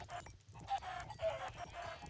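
Chickens clucking in the Minecraft video game, a few short fowl calls in a game soundscape, moderately loud with brief louder squawks around the middle.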